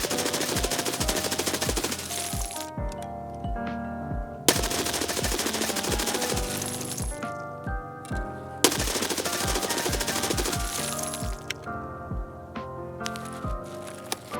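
SIG Spear rifle in a video game firing in several rapid bursts, each a fast string of sharp loud shots with short pauses between groups, close and punchy.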